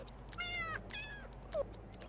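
A cat in The Sims 2 meows three times in short succession, the first two higher and longer and the last brief and lower, under soft game background ticking.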